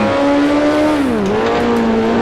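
A Grand Prix car with a lower-power F2 engine racing on the Isle of Man Mountain Course in Grand Prix Legends, its engine a loud, close, steady buzzing whine that dips in pitch on a shift and climbs again.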